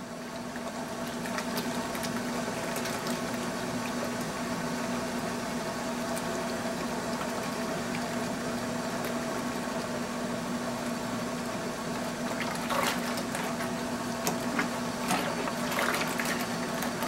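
Steady bubbling and churning of homebrew beer wort in a pot during a first brew of the year, a constant hum-laden liquid wash with a few brief clinks near the end, no talking.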